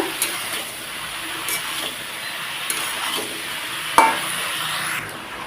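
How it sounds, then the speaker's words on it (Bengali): Bottle gourd and fish being stirred and fried in a pan, giving a steady low sizzle with soft scraping stirs and one sharp utensil clink near the end, close and fairly quiet. "এখন এটাকে দিয়ে আমি ভালোভাবে নেড়ে চেড়ে ভাজা ভাজা করে নেব"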